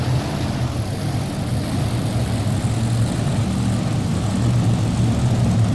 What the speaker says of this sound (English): Our next tractor on the line will be Jerry Stewart out of Paris, Tennessee.